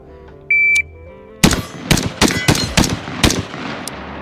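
An 11.5-inch SOLGW L89 carbine fired unsuppressed in a six-round 25-yard bill drill: a shot-timer beep, then six sharp, loud rounds in quick, slightly uneven succession over about two seconds.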